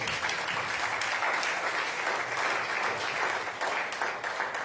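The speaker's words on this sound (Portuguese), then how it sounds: "Vamos dar um aplauso a Jesus." A church congregation applauds together, a steady dense wash of clapping that holds at an even level for several seconds with no talk over it.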